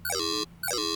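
A bright electronic synth built on a Crush Wub wavetable with a ring-mod filter and LFO plays two short, buzzy notes that sweep down in pitch, separated by a brief gap.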